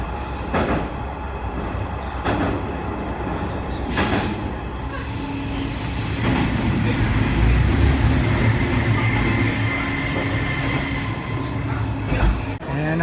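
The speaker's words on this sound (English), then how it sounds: "On the train that's coming to pick me up, it's only one car." A one-car train in Naruto, Japan rumbles in over several seconds, wheels clattering and squealing faintly on the rails as the noise builds and holds close by.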